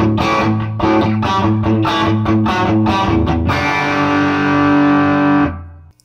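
Electric guitar played on the bridge pickup through a Doctor Z Octal Six amp with gain and tone stack fully up, no pedals: a loud, distorted run of rhythmic chords, then a long sustained chord ringing out and fading.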